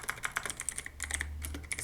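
Rapid keystrokes on a computer keyboard as a short command is entered, a close, steady patter of clicks with no voices.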